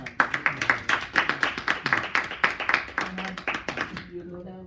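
A small group at a City of Flint Ethics and Accountability Commission meeting claps in quick rhythmic bursts, the applause fairly close and tapering off at the end, with voices murmuring underneath.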